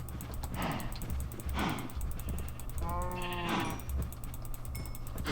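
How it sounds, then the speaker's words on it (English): Sheep bleat in the Minecraft video game, one wavering bleat standing out clearly over a steady hum and scattered clicks, with fainter animal calls around it. "I'm going to collect the sheep."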